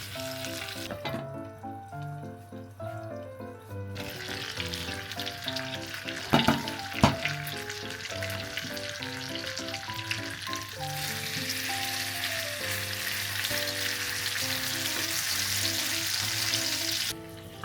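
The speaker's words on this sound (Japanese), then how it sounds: "ジュージューと焼けてきたら弱火にしましょう。" Char siu pork sizzles steadily as it pan-fries over low to medium heat, a continuous close frying hiss with a few brief clatters and soft background music, no talking.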